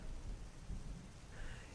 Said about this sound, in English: It's raining the whole week.